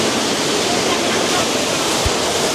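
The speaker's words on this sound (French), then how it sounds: "Voilà, on est en dessous de la cascade là." Loud, constant roar of the Baizhangji waterfall in China heard from a passage right beneath the cascade, a dense unbroken rush of falling water filling the whole clip.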